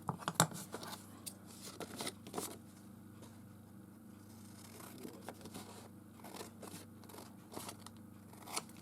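Scissors snip through a paper journal card for a vintage-style floral journal, giving a few close, crisp crunching cuts early on and then sparse quieter snips over a soft background.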